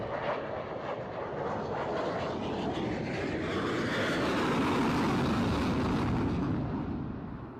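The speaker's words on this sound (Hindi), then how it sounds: "गोवा के आसमान में हवा को चीरते हुए आगे बढ़ रहा है सुपरसोनिक जेट MiG-29।" A MiG-29K supersonic naval jet roars across the sky over Goa, a loud, broadband engine rush that swells steadily to a peak and then begins to fade, with no talking.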